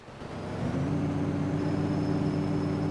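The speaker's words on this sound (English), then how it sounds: "Yep, that's the Jake brake." A truck's Jake brake engages in American Truck Simulator while hauling an excavator down the Million Dollar Highway, a steady low throbbing engine drone that swells in the first half-second and then holds loud and even.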